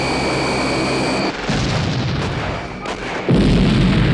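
A loud, deep explosion from the 1987 James Bond film The Living Daylights, booming and rumbling in heavy surges that swell again near the end.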